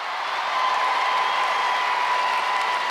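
A studio crowd at Australian Gladiators 1995 claps and cheers in a continuous, even roar that holds steady for a few seconds.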